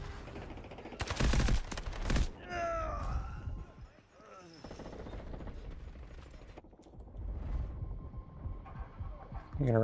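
Gunfire in a video game crackles in loud rapid bursts at the start, then continues as scattered shots and mechanical noise beneath someone talking.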